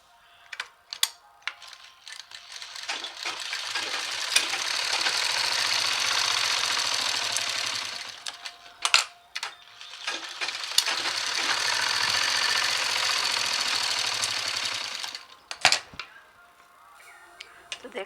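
Sewing machine stitching the sleeve of a Patiala suit, two long steady whirring runs separated by short gaps, with clicks and handling taps around them, close and moderately loud.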